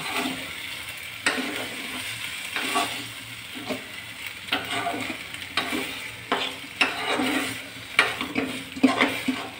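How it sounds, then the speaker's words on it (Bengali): Beetroot is stirred and fried in oil with ginger, a constant sizzle broken by repeated scraping strokes of a utensil against the pan at an uneven rhythm. "এখন বিটগুলোকে দিয়ে সুন্দর করে তেলে নাড়িয়ে নিচ্ছি।"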